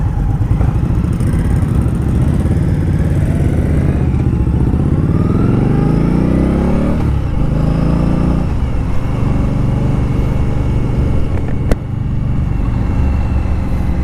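2018 Indian Scout Bobber ABS engine drones loud and close while cruising in third gear, pitch rising then easing as the motorcycle accelerates and shifts, with wind rush throughout.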